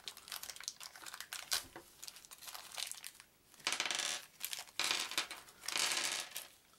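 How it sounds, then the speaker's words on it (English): A plastic dice pack for the Magic: The Gathering Shadows Over Innistrad board game is torn open, giving close crinkling and tearing plastic in several bursts, with small rattles of dice. "So let's open our dice pack up."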